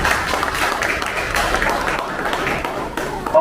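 Audience at the AAVF foundation's 15th founding-day event applauds the foundation: a moderate, diffuse round of clapping from a seated crowd, fairly even throughout with a voice emerging briefly at the end.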